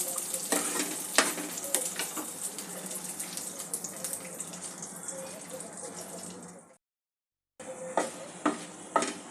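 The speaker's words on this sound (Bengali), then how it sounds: "কাজু কিশমিশটা হালকা করে আমি ভেজে নিয়েছি" Cashews and raisins frying lightly over a medium-low gas flame for Bengali sweet basanti pulao, a soft crackling sizzle with intermittent stirring clicks, broken by a brief silent gap before the frying resumes.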